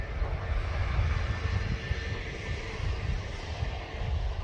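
An airplane engine roars steadily at Manchester airport on a hot day, a loud continuous low rumble heard from the spotting area with no speech over it.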